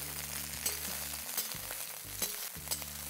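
Okra and onion sizzling in hot oil over high flame while being tossed in a pan, a steady close frying hiss punctuated by several sharp clatters of the toss, with no talking.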